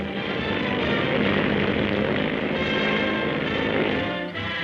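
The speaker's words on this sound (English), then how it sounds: "the successful test flight of the biggest of all skycraft, latest and largest addition to American air power" The largest US Army aircraft of 1941 flies past on a test flight, a loud, steady roar of propeller engines that holds at constant strength with no voices, easing slightly only at the very end.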